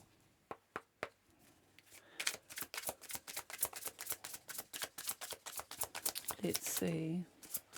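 Oracle cards are riffled and shuffled for a tarot-style reading, starting with a few sharp taps and then building into rapid, close flicking. A voice speaks briefly at the start.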